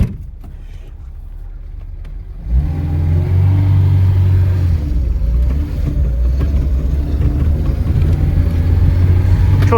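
A methane-powered car engine idles quietly at first, then starts up or is revved around the two-second mark into a loud, steady running drone that continues to the end.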